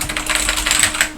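Keys clatter on a BBC computer keyboard in quick, fairly loud irregular taps, a steady run of mechanical clicks close by over a faint constant hum.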